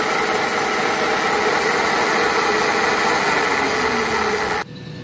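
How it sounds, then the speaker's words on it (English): An eddy current dynamometer built for FSAE spins freely at higher speed after its load is removed, making a loud, steady mechanical whir and hum that cuts off abruptly near the end. "Once we stop the load, the dyno starts to run a lot faster, as you can hear in the demonstration."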